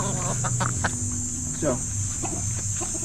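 Hungry Boston Gold chickens cluck repeatedly at close range on a farm, their calls layered over a constant high insect-like drone, with someone talking briefly.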